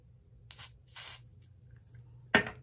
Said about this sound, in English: spray my fingertip